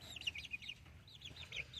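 Chickens, including black-skinned breeds, cluck in a rapid series of soft, close calls, repeated in two short bursts against quiet background.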